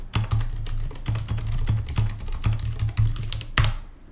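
Keystrokes on a computer keyboard while writing code in a programming editor, heard as close, crisp, irregular clicks in quick bursts with short pauses between them and a few louder presses.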